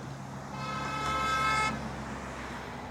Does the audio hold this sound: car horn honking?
yes